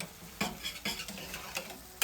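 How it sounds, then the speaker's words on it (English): Sautéed mushrooms are stirred in a pan, a quick series of utensil scrapes and clinks against the metal over a soft, steady sizzle. "Reminding me to stir the mushrooms as the camera goes over there"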